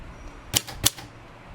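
Keys striking on a mechanical typewriter with a Turkish keyboard during a repair session, two sharp, close clacks about a quarter second apart over a quiet background.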